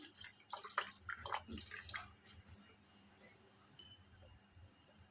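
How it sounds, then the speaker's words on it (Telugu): Water poured into churned curd for a buttermilk broth makes splashy, gurgling bursts up close for about two seconds, then settles into faint trickles and drips. "ఇప్పుడు వాటర్ యాడ్ చేస్తున్నాను."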